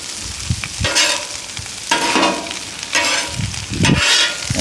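Food stirred in a sizzling pan to mix in salt, a close hiss broken by repeated scraping stirs in uneven bursts, with no voices.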